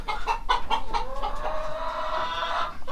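A Brahma hen clucks close by in a quick run of short rhythmic notes, then slides into a longer drawn-out murmuring call, loud and clear against quiet farm surroundings.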